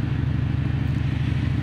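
A four-cylinder car engine idles steadily and close by, a low rumbling drone with a faint mechanical clatter and no voices over it.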